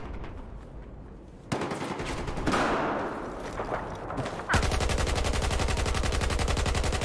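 Battlefield 4 gunfire from hostile machine guns: bursts of shots build up, then a loud, rapid, evenly spaced automatic volley hammers close by through the final seconds.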